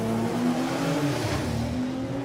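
A 6-cylinder drag racing car makes its run at a drag strip, a loud sustained engine roar that holds steady from start to finish without a break.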